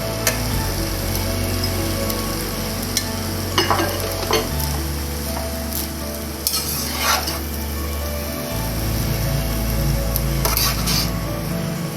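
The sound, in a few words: stirring rice into fried masala in a pan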